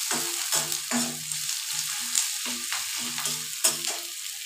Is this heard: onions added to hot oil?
yes